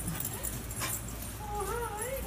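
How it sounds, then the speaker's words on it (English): Dogs at a brewery bark and whimper in short, excited bursts, close by and fairly quiet, with people speaking over them. "So they may bark."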